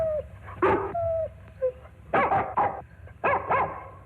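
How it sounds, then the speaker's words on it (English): A dog barks and yips in short bursts, with a few whimpering whines between the louder barks, close by. "Is that your dog?"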